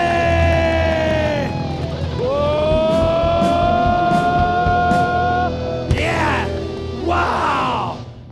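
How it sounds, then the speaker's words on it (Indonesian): A studio audience at a TVRI talk show cheers and claps loudly over sustained music with bright tonal lines, and excited yelling and crowd noise swell near the end. "Kasih tepuk tangan dulu Bapak Ibu yang sangat meriah"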